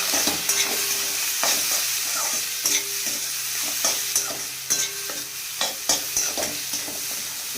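Egg and onion fry in a pan with a loud continuous sizzle and regular scraping taps of a spatula stirring close by, without voices.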